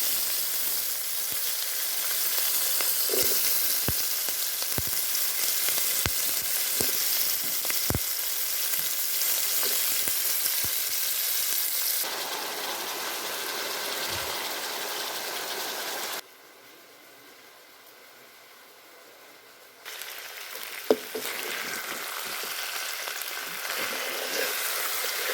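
Onions tossed into hot oil with dried red chilies and panch phoron fry in a pan with a steady broadband sizzle and occasional stirring scrapes, quieting briefly partway before sizzling again.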